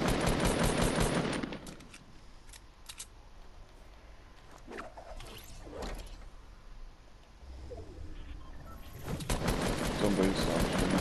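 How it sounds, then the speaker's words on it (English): Bursts of gunfire from a Fortnite Battle Royale match, heavy at the start and end with scattered single shots in the quieter middle stretch; a voice can be heard faintly alongside. "I'm shooting at him"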